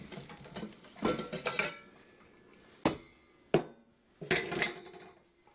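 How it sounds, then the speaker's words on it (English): Clattering metal and dish knocks come in several clusters with sharp single bangs between them, close by, as drained potatoes are tipped back into a pot. "I'm going to put my potatoes back in the pot."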